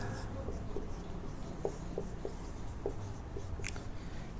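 Chalk or marker scratches across a classroom board in short, separate strokes during a maths lesson, with faint background hiss and a few small taps between the strokes.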